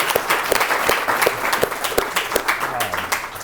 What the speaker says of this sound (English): how about a round of applause for our amazing panelists?